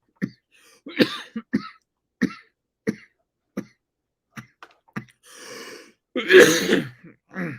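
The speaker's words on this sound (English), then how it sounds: "There's that coughing I told you about." Several separate coughs and throat-clearings come in short bursts over a few seconds, with one louder, harsher cough near the end.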